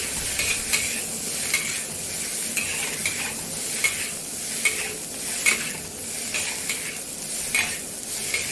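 Rice with garlic, onion, carrot and mushroom is stir-fried over high heat in a wok, a loud steady sizzle with rhythmic scraping tosses repeating roughly every second, no voices.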